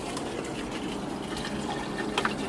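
Swimming pool filter set back to filter mode with water flowing through it: a steady, close gushing and splashing rush of water, continuous and fairly loud, with no talk.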